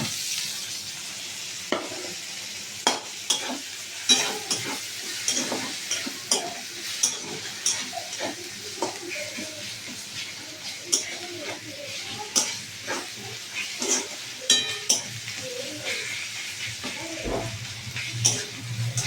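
Ginger-garlic paste and green chili paste fry with browned onions in a pan while a spoon stirs, making repeated scraping strokes and clinks over a low continuous sizzle.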